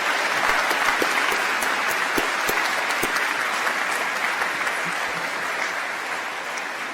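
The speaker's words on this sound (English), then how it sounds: "How about a round of applause for these amazing members of our community?" Audience applause fills a college of engineering commencement ceremony, steady dense clapping from a large crowd that holds for seven seconds and slowly tapers near the end.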